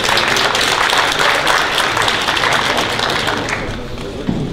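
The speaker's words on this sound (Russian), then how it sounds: "Аплодисменти." Dense, steady applause from a conference audience, many hands clapping at once for a full several seconds and easing off only slightly toward the end.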